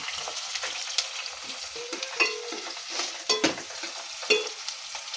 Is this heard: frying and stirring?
yes